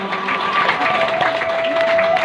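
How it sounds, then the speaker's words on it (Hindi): Audience clapping at a Ram Katha gathering at Kalpeshwar temple, a steady, loud wash of applause throughout with a held keyboard tone beneath. "जोरदार ताली"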